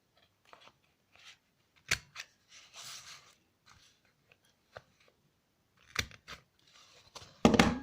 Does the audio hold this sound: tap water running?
no